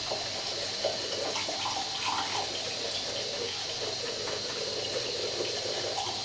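Tap water runs steadily from a faucet into a sink while shaving lather is built up with a brush, a continuous close splashing hiss with no pauses.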